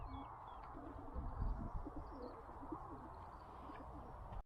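A pigeon coos softly in a low, repeated warble against a faint outdoor background with occasional distant chirps.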